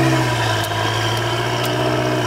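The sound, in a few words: Audi RS5 2.9 V6 twin-turbo engine idling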